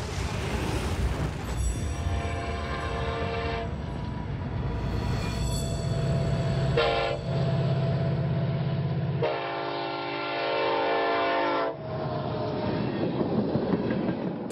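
Long oil tanker freight trains, 118 cars each, rolling through a shipping terminal in Trenton, North Dakota: a steady rumble of rail cars with sustained horn blasts sounding loudly over the din.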